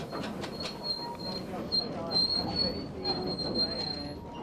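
A train on the Hythe Pier Railway, running along the 2,100-foot pier that opened in 1881, squeals its wheels in a steady high whine as it rolls over the rails, with continuous rumbling and clanking.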